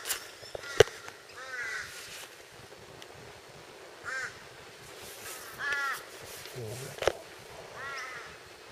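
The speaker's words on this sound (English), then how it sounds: "I don't know whether they're crows or what." Crows caw in short repeated bursts at a moderate distance at a Coochin Creek campsite in Australia, calling on and off over quiet outdoor ambience with a couple of sharp knocks nearby.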